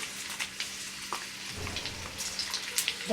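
Urad dal and red chilies fry in hot oil as the tempering for a tomato pickle. A soft, steady sizzle with small crackles runs throughout, and no one speaks.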